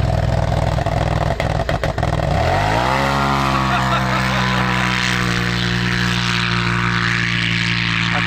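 A 270 hp Polaris RZR Turbo S side-by-side with a big turbo idles, then revs up and holds a loud, steady droning engine note in cold, dusty conditions, with voices faintly underneath.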